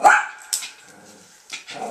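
A dog in a shelter kennel gives a sharp bark, a second bark about half a second later, and another brief bark or yip toward the end, fairly close in a reverberant space.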